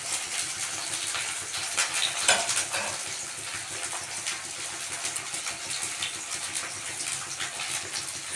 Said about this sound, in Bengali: দেখো কেমন আজকে আমি পটল ভাজি